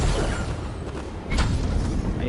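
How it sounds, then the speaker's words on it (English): Dull booming gunfire thuds in Fortnite, a few muffled low blasts over a steady rumbling background, no clear talk. "I hear the gunshots."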